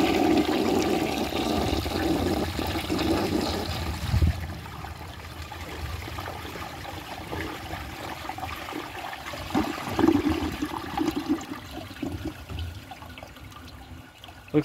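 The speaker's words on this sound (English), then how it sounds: "Just gonna add a little bit of water, and then I'll see how it does on a second flush." A Cadet toilet performs a second flush after a little water is added, a loud rushing swirl of draining water that fades into a softer trickle and gurgle as the bowl refills, with no talking.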